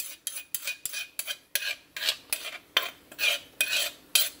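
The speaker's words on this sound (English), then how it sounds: "we're just gonna pour it back into the plate that I used for my cilantro" An eggplant pepper dish is scraped and poured back onto a plate, giving a run of regular clinking, scraping utensil strokes against the dish, close and fairly loud, with no voices.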